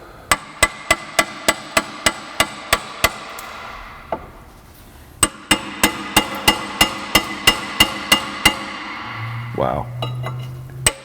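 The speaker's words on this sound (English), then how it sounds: "Got this hammer and chisel." Hammer striking a chisel to remove rusted brake pads from a 2003 Nissan Sentra, sharp metallic blows in a steady rhythm, about twenty hits in two bursts separated by a short pause, close and loud.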